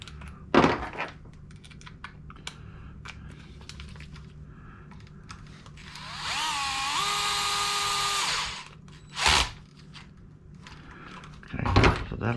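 A power tool drives a bolt into a Traxxas Jato 4X4 VXL RC car during a shock tower upgrade, giving one steady whirring burst of about two seconds between sharp clicks and handling knocks.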